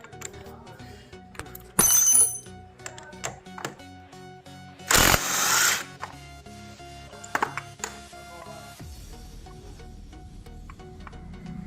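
Tools work at a hammered-tight clutch housing on a Victor motorcycle, with scattered metallic clinks and knocks broken by two loud, harsh grinding bursts a few seconds apart.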